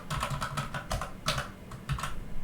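Rapid clicky keystrokes on a Magegee MK1 TKL mechanical keyboard, a close, steady burst of typing with a few heavier key presses standing out.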